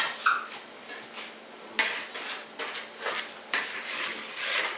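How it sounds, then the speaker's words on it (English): Flour, salt and nutmeg are whisked together in a bowl for Nigerian chin chin, giving close, repeated metallic clinks and scraping strokes in an uneven rhythm with no talk over them. "So I'm using a whisk to just whisk that together."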